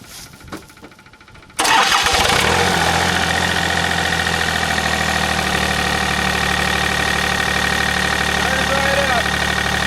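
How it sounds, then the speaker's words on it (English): A Takeuchi TB025 excavator engine cranks briefly, catches and starts, then settles into a steady, close, loud diesel idle that runs on without letup. "we're going to go ahead and start it and run it a little bit and see how it does"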